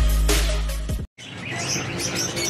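Birds chirp around a house rooftop where a brood with eggs and hatchlings nests, with dense, busy tweeting layered over a loud, rumbling background that cuts out briefly before the chatter resumes.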